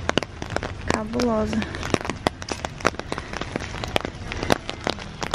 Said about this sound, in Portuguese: Não para de chover.